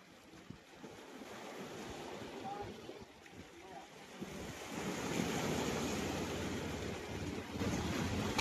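Ocean waves washing up on a sea beach, a broad roaring wash that grows louder and fuller partway through, mixed with wind buffeting the microphone.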